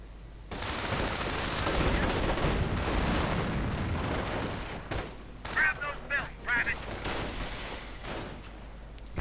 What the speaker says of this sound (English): Could be another strafing run on the way.